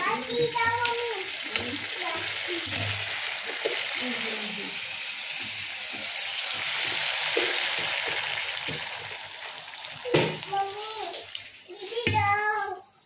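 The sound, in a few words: water added to sizzling fried spices in pan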